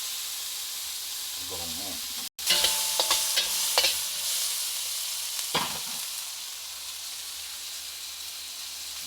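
Food is sautéed in a hot pan, sizzling with a hissing spurt after a brief cut, with scraping stirs and clatters over a steady frying bed; a voice speaks briefly near the start.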